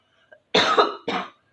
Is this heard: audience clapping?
no